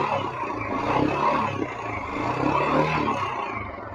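A Royal Enfield Himalayan 411 motorcycle idles in first gear on its stand, a close, steady engine thrum with mild mechanical clatter and small swells in loudness, no other sounds.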